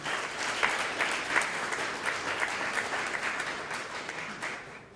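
An audience applauding a Member of the Knesset after his talk, a dense, even wash of clapping from a full room that holds steady for several seconds before tapering off.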